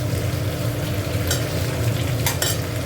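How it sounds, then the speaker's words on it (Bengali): Chicken frying in a pan while being stirred, a steady close sizzle with scraping strokes of a spoon against the pan, continuous throughout with a couple of brighter clinks. "এটা একটুখানি নেড়ে নিচ্ছি"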